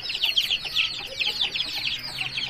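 An Aseel hen clucking, a quick run of sharp, close clucks repeated steadily throughout, fairly loud against a quiet background with no talk.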